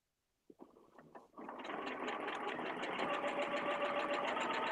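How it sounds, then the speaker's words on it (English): A sewing machine begins with a few slow separate stitches, then speeds into a steady, fast, even whirr as it runs continuously; close and moderately quiet, with no talking. "when I start sewing initially, I'm just going to start slowly so that I can put some tiny locking stitches right here, and I'll just sew right down to the other side."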